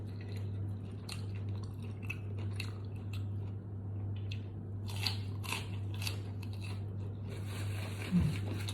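Crunchy bites of spicy Thai mixed seafood salad, a yum ruam mit talay, as someone chews close to the mic, with irregular crisp crunches over a steady low hum and a louder bite near the end.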